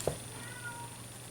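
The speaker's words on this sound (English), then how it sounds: "Sorry about that, that's just my cat." A single short cat meow, faint and brief at the start, in an otherwise quiet indoor room.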